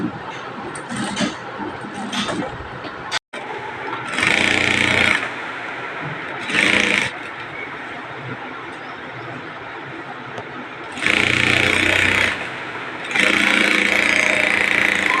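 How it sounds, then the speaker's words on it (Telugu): A sewing machine stitching a saree petticoat runs in several loud, steady bursts of a few seconds each, close by, separated by quieter pauses with faint handling sounds. "ఇక్కడ నుంచి మనము స్టిచ్ వేసుకోవాలన్నమాట"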